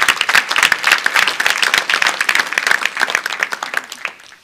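Church congregation applauding in praise during a sermon, a dense, steady burst of many hands clapping for about four seconds before tapering off.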